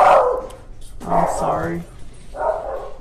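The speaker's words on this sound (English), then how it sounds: "My dogs are barking outside." Several pet dogs bark outdoors in three bursts, muffled and somewhat distant, while someone speaks indoors over them.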